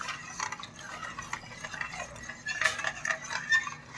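Soaked ragi millet batter stirred into boiling water with a ladle in a pot, with light metallic clinks and scraping of the ladle against the vessel, close and fairly quiet, no talk.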